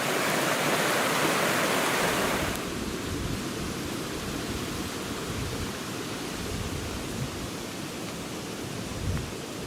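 A fast-flowing, turbulent river beside a bank with a fallen, undercut birch: steady loud broadband rushing of water, continuous and close, with no voices.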